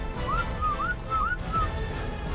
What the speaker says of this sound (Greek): Δεν ξέρω αν ακούτε που σφυρίζω